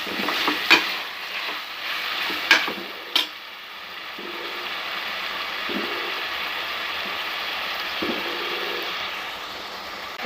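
Tomatoes with salt sautéing in a pan, a soft steady sizzle running throughout, with a few sharp scraping knocks of a spoon stirring early on and lighter stirring scrapes later.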